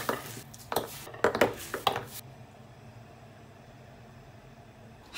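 Whole conch shells tumble into a pot of water seasoned with scallion, ginger, cooking wine and salt, giving a few hard clattering knocks over about two seconds before the kitchen settles into a quiet hiss.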